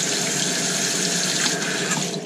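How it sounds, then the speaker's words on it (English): Running water rinses about ten pounds of fireplace fire glass in a colander, a steady, fairly loud splashing wash with no break. "I just pour 10 pounds of glass goes into the colander, and I just kind of rinse the water around."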